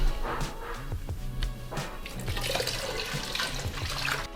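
Water poured into a cooking pot of sauce seasoned with oregano, a short close splashing gush with some clatter.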